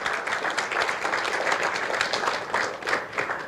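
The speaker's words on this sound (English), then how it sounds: "Can we get a round of applause for our chairman?" A crowd applauds a chairman at a PDP local government candidates' launch, with dense, sustained clapping that stays loud and steady throughout.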